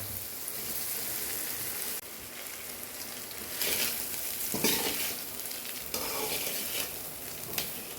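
Rice for jeera rice sizzles in a hot pan as it is stirred, a close crackling fry with scraping bursts from the stirring.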